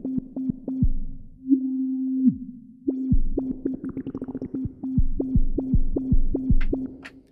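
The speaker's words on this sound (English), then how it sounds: "Let's try one of the sine waves." A sine-wave tone from a Pioneer DJS-1000 sampler with an LFO, a soft, pure, low hum chopped into repeating pulses, with one longer held note and a brief gap, loud and alone.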